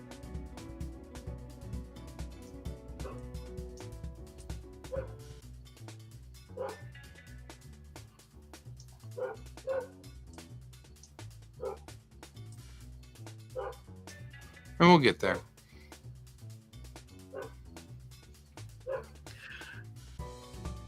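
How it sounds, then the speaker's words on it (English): A pet dog barks and yips in scattered sharp bursts, one louder yelp standing out, over a steady low hum with occasional speech. "The dog is very, very specifically annoyed by something."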